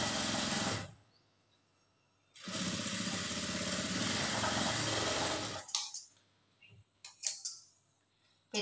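A sewing machine stitches a plain blouse in two loud, steady bursts, the first short and the second about three seconds long, with a pause between. Quiet handling clicks and thumps follow.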